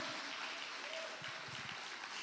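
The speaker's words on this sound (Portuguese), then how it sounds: "Dê um forte aplauso ao Senhor Jesus." Church congregation applauding during a worship service, a faint, steady wash of clapping from a large crowd that continues evenly throughout.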